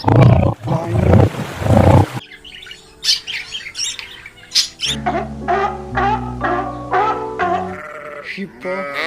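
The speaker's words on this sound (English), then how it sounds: "lion," A deep, rough lion roar opens loudly for about two seconds, then gives way to bird squawks, bleating and musical tones.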